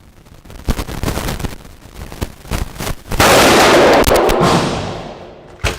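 A Colt Commando AR-15 clone rifle fires several sharp, loud cracks at an outdoor range, followed by a sustained rushing burst of noise that gradually fades.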